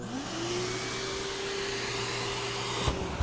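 A shop vacuum hooked by twist lock to a Dewalt SDS max hollow core bit runs with a steady, loud whir and a rising whine at the start, continuous throughout with a brief knock near the end.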